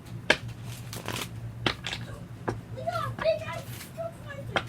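Playing cards being riffle-shuffled up close in short bursts, with a voice and other talk around them.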